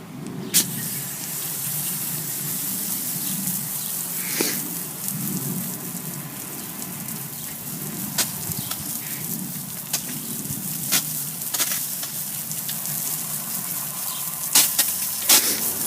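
A garden hose sprays water steadily across a patio during pergola construction, giving a continuous broadband hiss with scattered sharper spatters and drips throughout.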